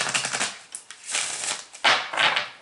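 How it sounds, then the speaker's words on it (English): Cards riffle and flutter in quick papery bursts, a deck being shuffled close by, with brief pauses between shuffles. "let's shuffle one more time"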